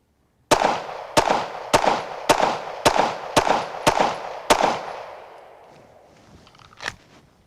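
Pistol fired during shooting training at a range, eight sharp, loud reports in a steady rhythm about half a second apart, each with a ringing decay, followed by a lingering tail and one quieter click.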